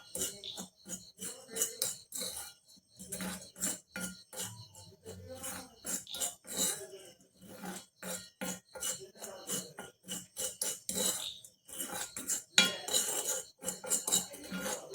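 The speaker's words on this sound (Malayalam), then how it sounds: "ഇതെല്ലാം കൂടി നമ്മൾ നല്ല പോലെ ഒന്ന് മിക്സ് ചെയ്യാം" A spoon clinks and scrapes steadily against a bowl while mixing a dry blend of nigella seeds, henna powder and amla powder, with close, repeated metallic taps running throughout and no talking.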